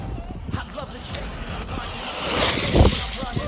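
A high-speed RC car with a ZTW 120A Beast V2 ESC accelerates hard on a speed run, a rising motor whine and rushing noise building toward a peak, steady and moderately loud against outdoor background.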